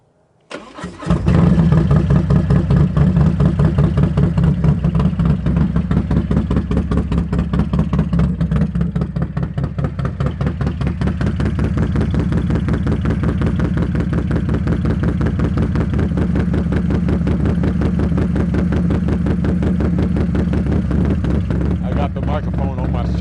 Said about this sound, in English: I'm gonna give you a cold start on this motorcycle so you can hear what it sounds like.